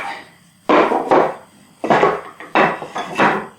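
Knife struck into wood to score a line for a hand-cut rebate joint, five sharp woody knocks in uneven pairs and singles, loud and close, with no talking.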